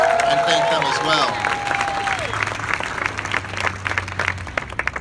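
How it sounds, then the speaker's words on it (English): A rally crowd at an event against terrorism applauds the singers and the New Horizons Choir, with dense, sustained clapping throughout and a few voices and whistle-like cheers rising at the start. "Let's give them a round of applause and thank them as well."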